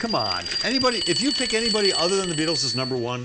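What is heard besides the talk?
two-minute warning alarm ringing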